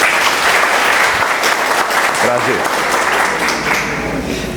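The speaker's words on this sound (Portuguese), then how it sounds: "Eu agora queria pedir palmas para André." Dense applause from an audience at a screening event for an animation project, a loud, continuous clapping crowd throughout, with a brief spoken word from one person partway through.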